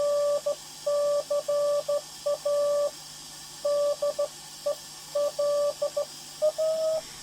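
Morse code beeps come through a 1940s WWII Lagercrantz suitcase agent radio on shortwave as a steady tone keyed in short and long pulses, with faint static hiss underneath.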